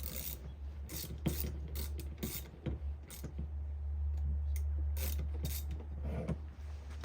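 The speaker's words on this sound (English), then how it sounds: "Got my handy dandy ratchet here. I'm just going to reach in here, get a hold of this plug." A hand ratchet working loose an oil drain plug under a vehicle during an oil change, giving close, quiet clicking and rasping strokes in an irregular rhythm over a steady low hum, with no talking.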